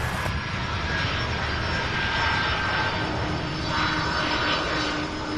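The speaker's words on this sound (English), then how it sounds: "have an MD-11 out of Oakland, California landing now" An MD-11 jet airliner from Oakland, California landing at Louisville's SDF airport, its engines a steady, loud roar holding throughout with a broad rushing hiss.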